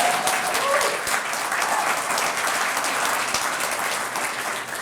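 Audience applause at the Plaza del Sol renovation event, a full, steady round of clapping from a sizable crowd that holds evenly throughout.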